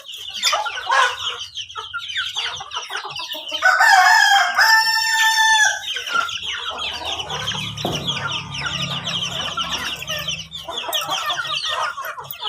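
Village chickens cluck steadily at close range, with a loud rooster crow rising in the middle and busy barnyard chatter continuing throughout, no voices present.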